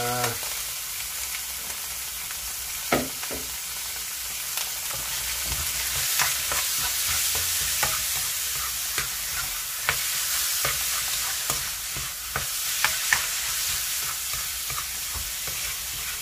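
Ground pork for a Filipino giniling dish sizzles steadily in a pan while being stirred, with continuous frying hiss and occasional scraping clicks of the utensil, no talking.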